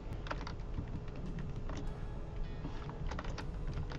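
Clicking keys on a computer keyboard while typing a short text, a rapid, uneven stream of close, crisp taps that keeps going without pause and with no speech.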